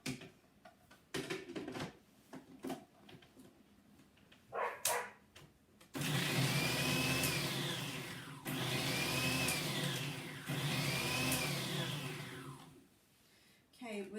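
A blender pulses a lamb kofta mixture with lemon juice: after some quieter handling noises, three long, loud whirring bursts with a rising whine are separated by short pauses.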